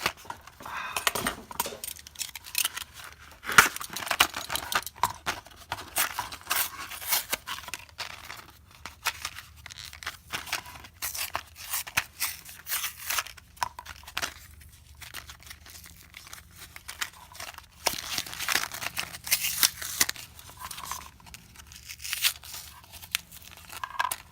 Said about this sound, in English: So I ripped up the directions.